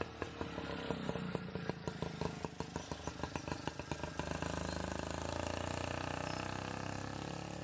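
A 1956 New Hudson autocycle with a Villiers 2F two-stroke engine runs nearby, its steady rapid putter pulsing evenly, then swelling into a fuller, continuous drone as the revs rise.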